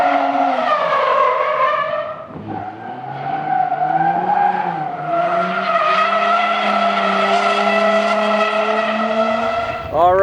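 A Mazda Miata drifting at Bonneville Bash on worn tires whose tread is coming off, with a loud, sustained tire squeal and engine whine shifting in pitch as it slides, ending in a sharp rising screech.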